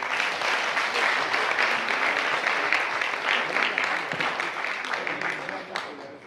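A hall audience gives sustained applause for the five finalists of an eloquence contest. The clapping is dense and even, with faint voices mixed in, and it eases slightly near the end.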